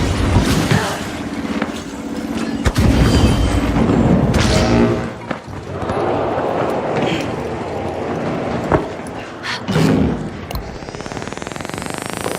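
Bandit bomb explosions in the video game The Finals, a chaotic run of booms and heavy thuds scattered through a busy, loud game mix, with no clear talk.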